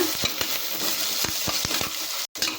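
Onions and mint leaves fry in a pan for a pressure-cooker mutton curry with a close, steady sizzle and a series of sharp spoon taps and scrapes against the pan, briefly cut off near the end, with no voices.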